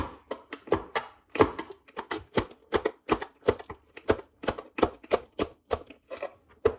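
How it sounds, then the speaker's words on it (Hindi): Green chillies are chopped in a steady, brisk rhythm of close, crisp chops, around three per second, with no talking. "अब ग्रीन चिली काट लेंगे।"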